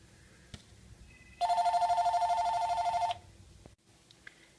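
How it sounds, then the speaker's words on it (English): A telephone rings in a quiet room during a crafting session, a single burst of rapid bell-like trilling lasting under two seconds, clear and moderately close, with near silence before and after. "the phone was ringing"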